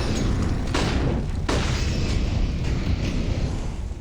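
Grenade and other utility detonations in a CS:GO pro match on the Overpass map, loud continuous rumbling booms with a couple of sharper bursts, heavy and close throughout.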